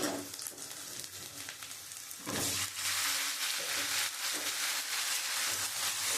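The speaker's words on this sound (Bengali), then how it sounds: "আমি সবজিগুলো একটু ভেজে নেব" Vegetables for an elephant foot yam and prawn curry fry in a pan over browned onion, a close, continuous sizzle that jumps louder partway through as they go in and stays strong.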